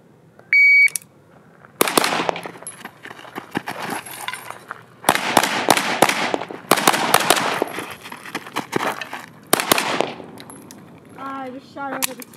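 Sharp, loud gunshots fired in quick bursts during a shooting drill around a tough position, several clustered volleys separated by short pauses, with a beep and a brief voice near the end.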